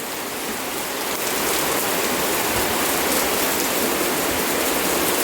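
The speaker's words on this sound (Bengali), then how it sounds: "খুব জোরে বৃষ্টি হচ্ছে" Heavy rain pours down outdoors under a dark sky, a loud, dense, steady hiss that thickens after the first second, with no voices.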